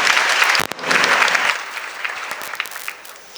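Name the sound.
audience applause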